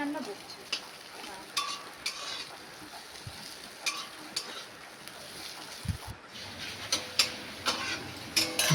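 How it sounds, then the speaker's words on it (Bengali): Finely chopped chicken fries in a pan for street-style chicken chow mein, giving a faint, steady sizzle broken by light scraping and tapping stirs. "তারপরে যে মাংস ছোট কুচি করে ভাজা হচ্ছে।"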